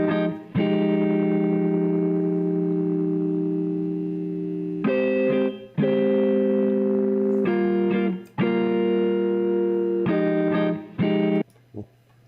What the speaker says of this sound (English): So then it sounds like this after all my distortion / lo-fi effects.